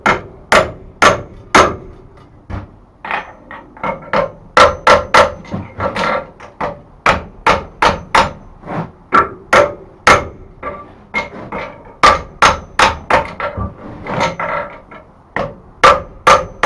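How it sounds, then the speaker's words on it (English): Hammer blows drift the eye of a forged wrapped-eye tomahawk, loud ringing metallic strikes in a steady rhythm, some single and some in quick clusters, close and alone. "now that it's welded, what I'm going to do is I'm going to drift the eye again"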